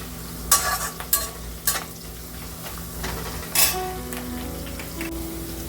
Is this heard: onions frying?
yes